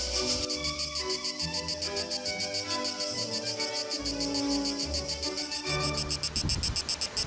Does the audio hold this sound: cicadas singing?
yes